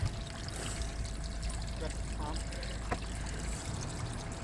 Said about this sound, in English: he'll bring the hose around and it'll go into that water there and start filling the tank for me